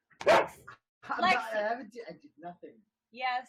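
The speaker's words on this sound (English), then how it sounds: "That's my dog." A pet dog barks in a short burst near the start at home during a casual live chat, with people talking over and around it.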